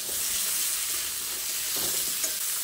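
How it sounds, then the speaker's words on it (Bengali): Eggplant and mixed vegetables frying with salt and turmeric in a pan for a Bengali sukto, giving a steady, close sizzle and hiss throughout with faint stirring and no talk. "তারপর অল্প একটু নুন আর সামান্য পরিমাণে হলুদ দিয়ে সমস্ত সবজিকে একসঙ্গে ভালোভাবে ভেজে নিতে হবে।"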